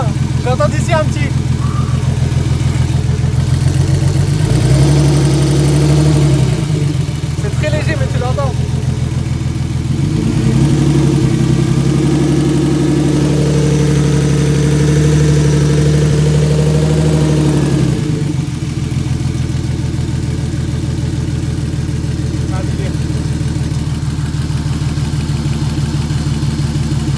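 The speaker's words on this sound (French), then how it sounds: "Là, tu entends vraiment le moteur" A turbocharged BMW E36 engine idles steadily just after its first start, running without engine management. The loud, close rumble carries on throughout with a few swells, while people talk over it.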